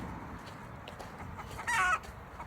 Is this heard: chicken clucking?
yes